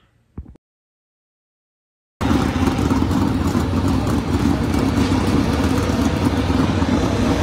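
Race cars roar in a heat race at Clinton County Speedway, heard from the stands. A short quiet stretch with a faint noise gives way to a sudden, sustained loud engine drone that holds steady for the rest of the clip.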